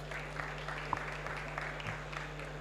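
Audience at a climate and heating trade forum applauds a conference talk, a thin, quiet patter of scattered claps over a steady low hum.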